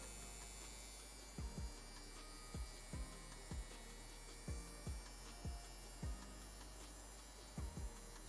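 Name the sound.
DKLABS Warrior tattoo machine running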